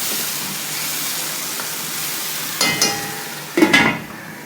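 Kata kat cooking on a high flame in a wok: a steady hiss, then two sharp sizzling bursts as the mixture is stirred, with no voices.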